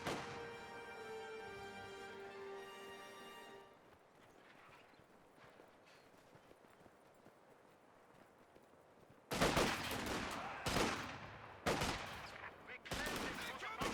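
Burst after burst of small-arms fire crackles from garrisoned windows in Company of Heroes 2, loud clustered volleys with brief gaps, following a quieter stretch of battlefield ambience and a sustained tonal hum.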